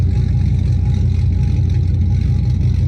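A car engine fitted with a tuba exhaust tip, a loud, steady droning rumble held close for a maximum loudness test, with no clear rise or fall.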